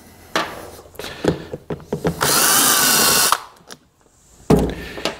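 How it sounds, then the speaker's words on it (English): A power drill backs screws out of the backing plate on a Champion 2000-watt inverter generator, with short bursts and one sustained whir of the motor mixed with clicks and handling knocks close by. "I'm going to remove all 4 of these screws."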